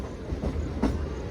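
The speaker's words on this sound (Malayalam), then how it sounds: "അങ്ങനെ നമ്മുടെ വണ്ടി ഇതേ സ്പീഡ് എടുത്ത് തുടങ്ങിയിരിക്കുക കേട്ടോ" A MEMU electric passenger train picks up speed leaving Palakkad Junction on the way to Erode, giving a steady rolling rumble with faint wheel clatter heard from inside the carriage.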